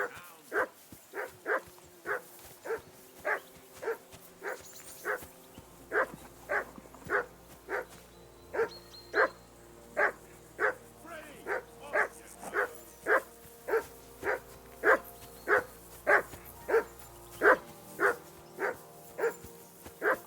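A dog in the video game Kingdom Come: Deliverance II barks repeatedly in a steady, evenly spaced rhythm of about twenty loud barks, close by and alone without talk.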